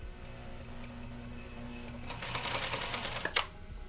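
A domestic sewing machine stitches an elastic channel in fabric, running with a steady fast mechanical whir that grows louder midway, ending with a sharp clack.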